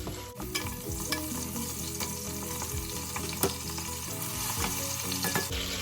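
Onion frying in a pan for a beef caldereta sizzles loudly and continuously, with scattered stirring clicks and scrapes throughout.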